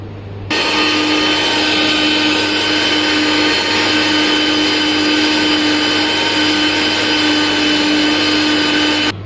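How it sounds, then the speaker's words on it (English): An electric grinder blends tamarind with sugar, lemon juice and water, a loud, steady high-pitched whirring drone that starts abruptly, runs unchanged for about nine seconds, then cuts off. "We have to grind in grinder"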